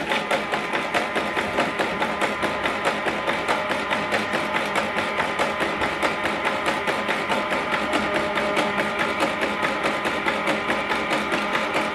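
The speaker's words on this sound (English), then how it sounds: "so switch this printer on." An HP LaserJet MFP M140we laser printer powering up: a steady mechanical whir with rapid, regular clicking ticks repeating throughout, like a machine warming up nearby.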